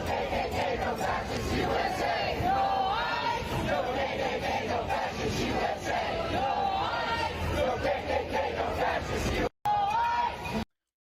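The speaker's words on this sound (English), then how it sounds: "So you got enough of a crowd out there." A dense protest crowd shouts and chants continuously at close range, a loud roar of many voices with raised calls rising above the babble, broken by a brief cut near the end.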